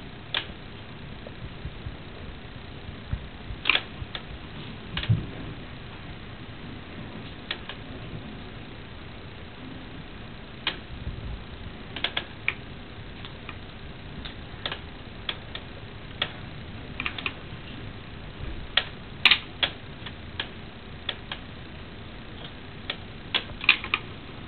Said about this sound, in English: she'll give it a gentle kick so she can wind on the yarn that she's just made